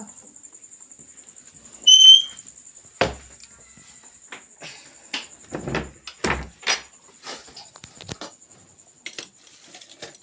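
A house door is shut on a Ramadan night before heading out for iftar, giving a few dull knocks and clunks, with faint bird-like chirps and a steady high whine in the background and no talking.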